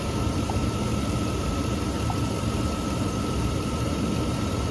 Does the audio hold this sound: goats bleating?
no